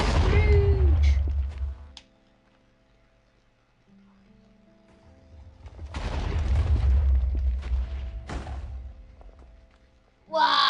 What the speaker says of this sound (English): that is really glitchy TNT